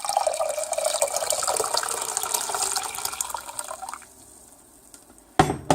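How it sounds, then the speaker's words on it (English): Spring water running from a tap into a pot as chaga tea is prepared, a steady splashing pour that fills the space for several seconds, then stops, followed by a brief sharp knock. "I'm going to fill it up with spring water."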